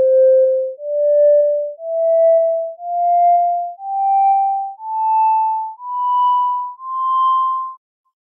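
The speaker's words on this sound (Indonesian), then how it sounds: "Ya, seperti itu kita untuk memperhalus ya nada dasar dengan menggunakan metode atau nilai fungsi mutlak ya." A smoothed fundamental tone generated in MATLAB with an absolute-value function plays as eight clean, evenly spaced synthetic notes, each about a second long and rising step by step in pitch, loud and alone.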